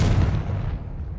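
A fiery Confringo blast spell explodes in the Hogwarts Legacy video game, a loud, deep boom that hits hard at once and then rumbles and fades over about a second, with no voices.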